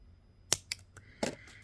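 Sharp snips of wire cutters trimming loops of beading wire while making earrings, three crisp close clicks spaced apart in a quiet room.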